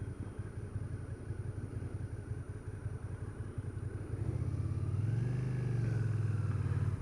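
A 2012 Suzuki SFV650 Gladius motorcycle runs with a steady engine drone under way, then a smooth rise in pitch as it accelerates, heard from the rider's position with no talk.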